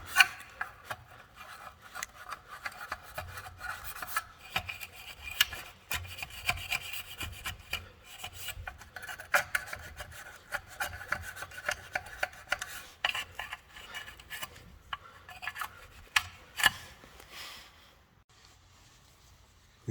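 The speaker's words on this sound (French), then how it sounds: "Une fois que vous avez passé le WD-40 avec le papier de verre, vous prenez un chiffon et vous essuyez à sec." Sandpaper soaked in WD-40 rubs rust off an Akrapovic motorcycle exhaust line, a steady close scraping rasp in quick repeated strokes that stops near the end, with no voices.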